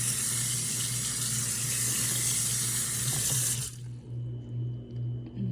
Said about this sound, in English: It says to rinse the noodle in cold water.